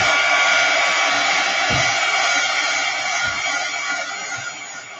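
A hair dryer blows steadily on a mixed media art journal page, a loud continuous whoosh running alone, easing slightly toward the end.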